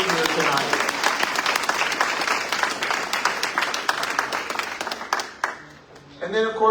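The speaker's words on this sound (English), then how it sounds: "let's give them a round of applause." At a city council forum, an audience claps for elected officials in steady, full applause that drops away near the end, with a voice starting up as it dies out.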